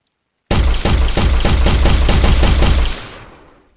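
An Unreal Engine video game weapon fires a sustained automatic burst of rapid, punchy shots for about two and a half seconds, then falls off into a short decaying tail, loud and with no talk.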